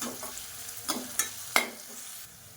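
Chopped large onion with salt sautéing in a pan, a soft, quiet sizzle broken by a few spatula stirs and scrapes that land as short distinct clicks over about two seconds.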